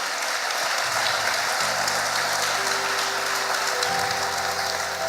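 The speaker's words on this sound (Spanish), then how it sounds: "Dele ese aplauso fuerte al Señor Jesucristo." A church congregation breaks into loud, sustained applause, a dense rain-like wash of clapping that holds steady throughout, with no voices over it.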